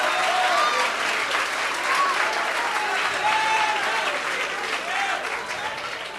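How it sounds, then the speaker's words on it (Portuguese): A church congregation applauds during a pastor's testimony, a full, sustained round of clapping at steady volume, with voices faintly calling out and whistling beneath it. "Dê uma salva de palmas para Jesus"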